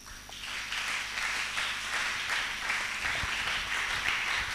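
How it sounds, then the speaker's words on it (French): A church congregation applauds and cheers in praise, a steady dense wash of clapping that holds at a fairly loud level from start to finish, with no clear talk over it. "On acclame le Seigneur."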